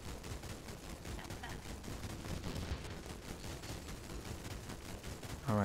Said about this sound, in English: he's still shooting, and so am I